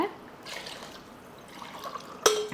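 Water and coconut milk are poured into a cooking pot for a mutton coconut milk pulao, giving soft, close trickling and splashing sounds with a sharper drip or clink near the end.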